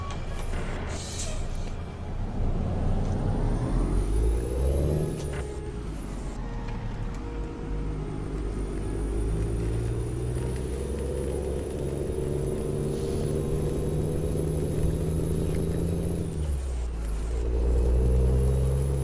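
A truck engine in American Truck Simulator drones steadily at close range, its revs swelling and easing with the throttle, with occasional air hisses and no talking.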